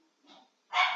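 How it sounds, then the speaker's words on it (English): A dog barks once up close in a short, sharp burst, preceded by a fainter yip or whine, with no talking over it. "that was a dog?"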